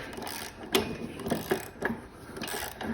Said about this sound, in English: Got my new extendable ratchet from Harbor Freight. This thing's great.